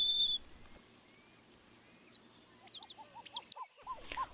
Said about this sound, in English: the Horseshoe Loop Trail that runs around the perimeter of the lake and is home to many different songbirds, such as orange-crowned warblers, golden-crowned sparrows,